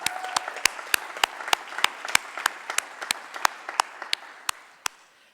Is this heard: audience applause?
yes